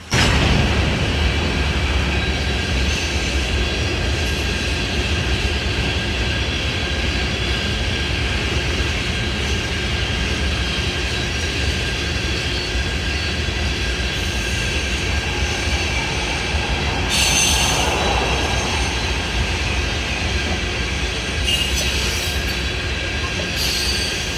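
A Norfolk Southern C35 freight train rolls past in a long, steady, loud rumble of rail cars, with high metallic wheel squeals rising partway through.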